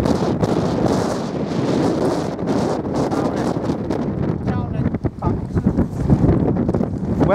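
Strong gusts buffet the microphone on the windy summit of Black Combe in South West Cumbria, a loud continuous rumbling roar with rustling bursts, and a person's voice is faintly audible beneath it.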